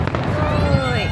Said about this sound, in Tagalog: Biglang nag-fireworks.